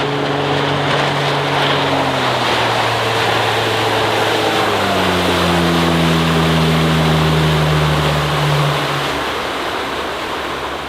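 A 2010 Glastron GT 209 Cuddy motorboat at full throttle, its engine droning loud and steady with rising pitch as it accelerates, wrapped in continuous rushing hull and water noise.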